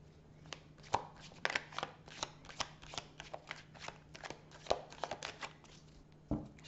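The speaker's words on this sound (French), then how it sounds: "je vais quand même couper le jeu." A deck of cards being cut and shuffled for a tarot-style reading, giving a run of quick papery riffles and soft flicks close by, with a faint steady hum underneath and no talking.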